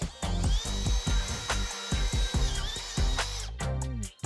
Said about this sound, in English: You know I don't love drilling things out, but we need to open that hole up to about 12 mil.